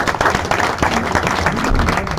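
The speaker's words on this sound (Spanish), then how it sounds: "Da un aplauso a estos niños siempre" A Baptist church congregation clapping for the children after a blessing, loud close-range applause with sharp individual claps throughout.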